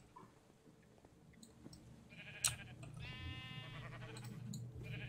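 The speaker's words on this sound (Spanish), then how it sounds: "Hay muchas ovejas y poco más." Sheep bleat in Minecraft, a wavering bleat rising in the middle over a low background hum and game sounds, quiet and somewhat distant.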